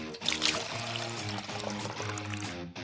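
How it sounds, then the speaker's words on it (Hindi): Water poured steadily into a mix of sugar and food colouring in a kitchen, a continuous splashing pour lasting a few seconds over background music. "पानी डालें और अच्छे से मिक्स करें।"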